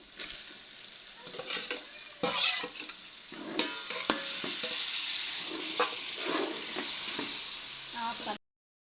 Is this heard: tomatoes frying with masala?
yes